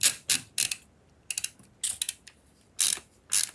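An Audix D2 microphone with a loose capsule being tightened, giving sharp, close ratcheting clicks in short separate bursts with quiet gaps between them.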